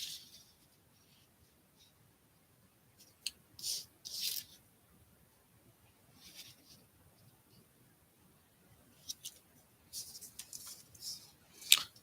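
Scissors cutting paper for beginner journal signatures, with sparse short snips and crisp rustles spread over a quiet stretch, some in quick pairs.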